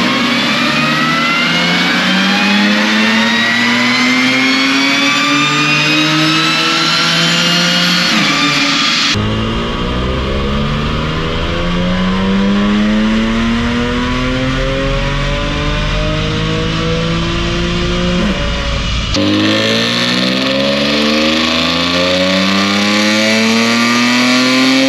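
An Audi SQ5 with a Unitronic Stage 1 Plus tune revs repeatedly on a dyno during baseline runs, the loud engine note climbing steadily through the gears in long sweeping pulls, close and continuous.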